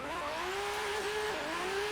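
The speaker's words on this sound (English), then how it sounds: "Sounds really nice, revving really high." An RB20 engine in an R31 Skyline in a racing video game revs high and holds there, a bright sustained whine that rises and dips slightly across the stretch, loud and close with no voices.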